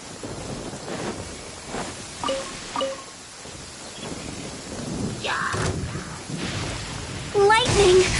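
A thunderstorm with lightning in the video game Genshin Impact: rumbling thunder and rain noise fill the background while brief tonal game effects chime over it, with a louder burst near the end.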